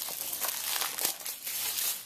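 Plastic shrink wrap being peeled and torn off a PlayStation game case gives a steady close crinkling and crackling for about two seconds, with no talking.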